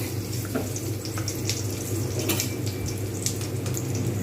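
Whole garam masala, dried chillies and cumin seeds sizzle in hot oil, a dense, even crackling hiss that continues without pause and without any talk.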